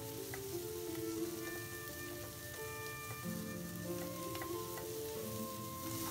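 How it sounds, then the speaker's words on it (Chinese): Shrimp and asparagus stir-fried in a wok, a steady sizzle with scraping and tossing from a spatula running throughout, close and continuous with no voices. "放入虾仁儿，继续翻炒。"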